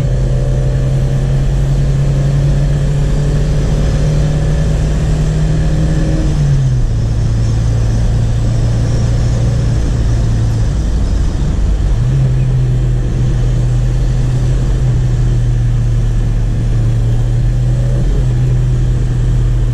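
A 1989 Chevrolet Chevette 1.6 SL engine hums steadily from inside the cabin while driving, a loud continuous drone that drops in pitch with a gear change and then climbs back as the car pulls on.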